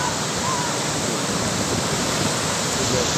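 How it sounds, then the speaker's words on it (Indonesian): Ocean waves at Parangtritis beach roar in a dense, continuous wash of surf, loud and close, with no pauses or voices above the noise. "Ngeri ombaknya."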